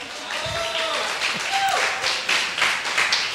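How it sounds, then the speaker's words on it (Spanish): Audience applause for a volunteer named Emanuel at a talk, scattered claps rising under faint background voices, fairly distant and moderate in level. "un aplauso para Emanuel, por favor."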